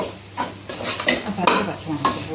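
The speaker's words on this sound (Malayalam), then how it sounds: "ഇനി ഇത് പച്ചമണം മാറുന്ന വരെ ഒന്ന് ഇളക്കി കൊടുക്കാം." Masala for a chickpea curry being stirred in a pan, with a series of close, soft scraping strokes and a faint sizzle in a steady, uneven rhythm.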